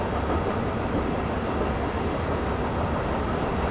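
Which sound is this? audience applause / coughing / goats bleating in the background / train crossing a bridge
train crossing a bridge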